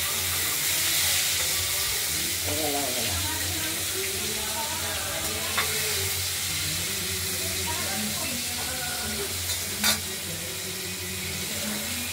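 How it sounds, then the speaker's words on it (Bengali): Pieces of katla fish fry in hot oil, four at a time, with a steady sizzling hiss throughout and occasional faint clinks, alone without talk. "এবার মাছগুলো আমরা এক এক করে ভেজে নেব।"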